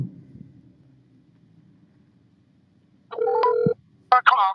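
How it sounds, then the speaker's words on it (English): A phone call rings out on a handset: quiet room murmur, then one loud, steady ringback burst, followed by a short electronic tone near the end. "Let me call folks, put him on this phone real quick."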